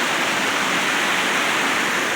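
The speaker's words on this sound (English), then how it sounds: "Here's the look at the spillway from above the second fall." Water rushes down an old spillway below a second fall after rain, a steady, dense roar of broadband noise heard close and loud with no pauses.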